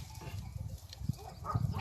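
A sheep on a mountain farm bleats in short, low calls during cool weather, close by amid outdoor background noise.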